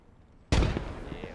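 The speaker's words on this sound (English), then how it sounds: "That's a good nade." A grenade detonates in the WWII game Gates of Hell, a single sudden loud blast after a quiet moment, followed by a rumbling decay with scattered battle noise.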